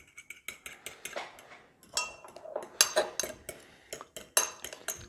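Egg and cocoa being mixed in a bowl: a run of quick, uneven clinks and scrapes of a utensil against the bowl, close by and moderately loud, with no talking.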